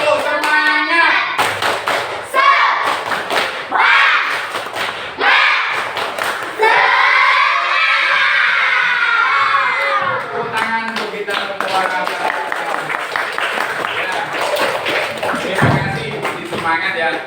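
A group of participants at a teacher performance assessment session at IAIN Kerinci claps in a loud, rhythmic 'tepuk semangat' pattern, bursts of claps broken by energetic group shouting, close and continuous.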